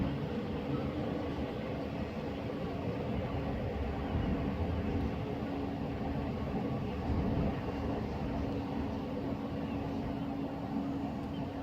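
A Southeastern train pulls out of Sittingbourne station on the Chatham Main Line. It makes a steady, fairly distant rumble and hum that holds at the same level throughout.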